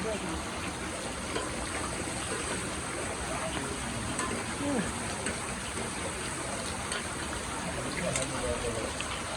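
Steady rain hisses continuously, a dense even wash of sound with faint voices buried underneath.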